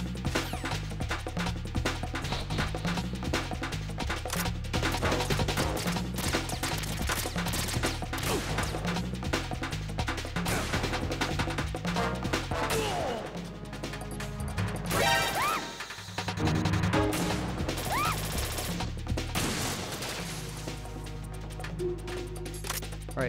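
Gunshots from a PSG-1 sniper rifle in the video game Metal Gear Solid 2, sharp impacts scattered through a dense, continuous bed of game music and effects, with a brief dip in the middle.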